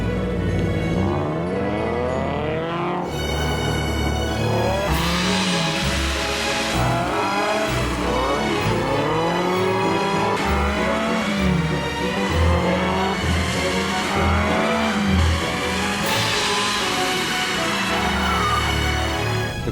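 A Subaru BRZ engine revs and drones through shifting pitches while tires squeal and skid repeatedly, loud and continuous, as the car drifts around a wet test track.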